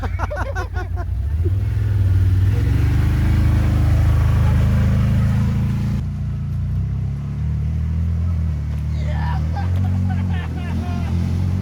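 An off-road ATV or UTV engine revs hard under throttle on a rough trail near a waterfall. Its pitch climbs quickly, then holds a loud, sustained roar close by, with brief voices at the start and end.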